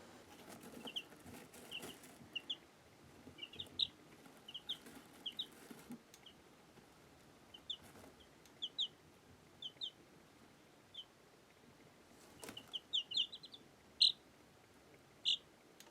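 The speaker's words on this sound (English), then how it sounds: "Those 6 baby chicks are doing well." Baby chicks chirp in short, faint, scattered peeps, some in quick clusters, over a quiet background with occasional soft rustling.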